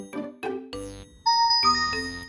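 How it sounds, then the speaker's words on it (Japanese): A Vantrue N5 (Nexus5) four-camera dashcam powering on plays a short bright startup chime: a few quick ringing tones and a sustained electronic note, close and alone in a quiet car. "チンチロリンと音が鳴ってオレンジ画面のバントゥルーのロゴが出てきました。"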